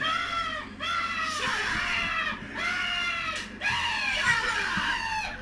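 A man screams loudly and harshly in three long, sustained bursts separated by brief breaths, close and raw with no other sound around him.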